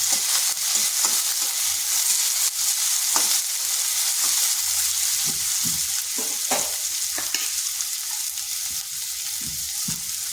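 Long strips of onion, with chopped green chilli, fry lightly in a pan, a loud, continuous sizzle close by, punctuated by regular soft scrapes and taps of stirring, with no talking.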